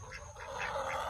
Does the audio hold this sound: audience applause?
no